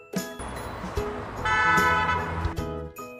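A bus horn sounds in several honks: brief blasts at first, then a longer held tone in the middle and a few more short toots, loud and near with no talking.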